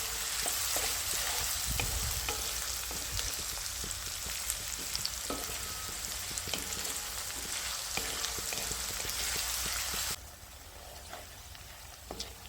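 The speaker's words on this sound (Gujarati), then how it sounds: "ડુંગળી આપણે સડી જવા દેવાની છે આમાં." Chopped onions frying in oil in a pan for soya chunk curry in a village kitchen, a steady crackling sizzle with occasional pops and stirring clicks that eases to a lower hiss toward the end.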